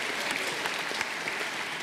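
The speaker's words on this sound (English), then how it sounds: "cheer for the Pipers" Crowd at a high school commencement ceremony at Holy Names Academy applauding, a dense steady patter of many hands clapping that holds at even strength throughout.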